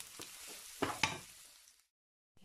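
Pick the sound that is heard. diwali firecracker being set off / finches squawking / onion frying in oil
onion frying in oil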